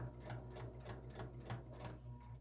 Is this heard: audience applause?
no